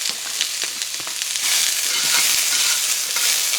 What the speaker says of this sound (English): This is just olive oil that I've used. And I'm gonna put, this is a small onion